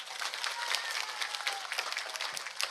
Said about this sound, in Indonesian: Tepuk tangan untuk panitia